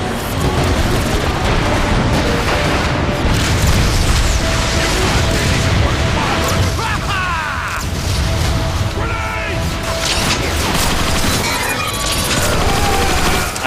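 A grenade blast in Transformers: Fall of Cybertron erupts amid sustained heavy gunfire and mechanical clatter, a dense, loud, continuous battle wash with booming bursts throughout.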